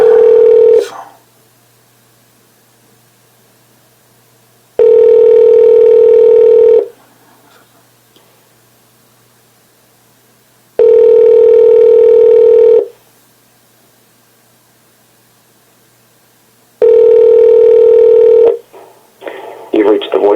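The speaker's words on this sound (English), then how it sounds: "Your call is being transferred." Telephone ringback tone plays while a call is being transferred, four long steady rings evenly spaced with silent gaps between them, loud and close, followed by a brief recorded voice at the end.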